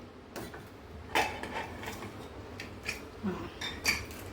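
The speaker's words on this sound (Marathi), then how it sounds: "आता मी कुकर उघडून बघते" Metallic clinks and scrapes as a pressure cooker lid is opened after cooking masoor rice, a few sharp clanks over a low steady hum.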